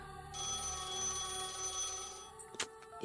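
A telephone rings on and on unanswered, a bright continuous electronic ringing tone held for a few seconds before cutting off into brief clattering noise, with no voices.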